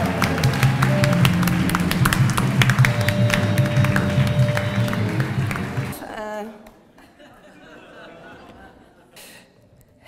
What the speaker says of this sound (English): a big round of applause for your next debater over here at the Yes Team